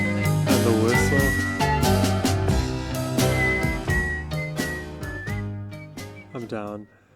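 A melodic whistled line rides over a full band arrangement in a recorded song, the tune held in clear sustained notes before the music fades.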